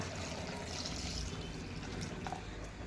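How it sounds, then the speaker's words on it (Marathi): A potful of hot water pours steadily into Khandeshi village-style chicken curry cooking in the pot, making a continuous rushing, splashing wash of liquid with no voices. "तांब्याभर पाणी गरम करी ठेवायचे लगेच आई पाणी सोडी देवा"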